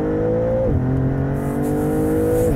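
A Maserati MC20 with a 3-liter twin-turbo V6 pulls hard through an 8-speed dual-clutch gearbox. The engine holds a loud, steady, close drone, and the pitch drops sharply at two quick upshifts.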